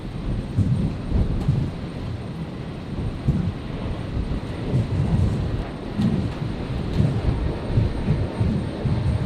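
An airliner lands on runway 01 right at Brisbane Airport on a stormy night, a loud, steady low rumble and roar that holds for the whole stretch with no voices.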